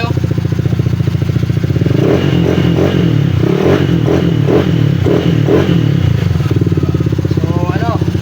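A Suzuki Samurai 155 motorcycle engine fitted with a Honda Click throttle body idles steadily, then revs in a series of quick throttle blips, loud and close, with people talking over it.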